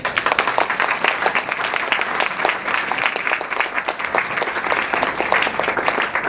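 Audience at a business case competition award ceremony applauding the participating students, a sustained dense round of clapping filling the room steadily from start to finish.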